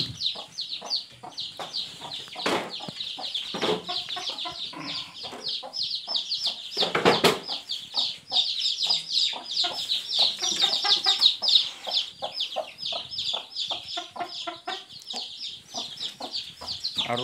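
Local home-raised hen and chicks clucking and peeping steadily and close by, with soft continuous cheeping and occasional louder hen clucks, no talk over it.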